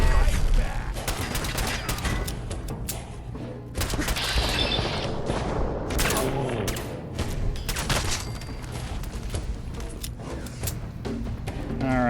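Gunfire in Fallout 4, loud sharp shots cracking repeatedly at irregular intervals with booming echoes and clattering debris, over a low constant hum.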